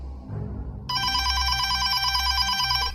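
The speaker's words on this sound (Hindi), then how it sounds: "ठीक 11 बजे फोन की घंटी बजी।" A telephone bell starts ringing partway through, a loud, steady electronic trill that continues to the end over a low background hum.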